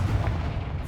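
A short booming blast from the Confringo fire spell in Hogwarts Legacy, a single loud low burst that rumbles briefly and fades.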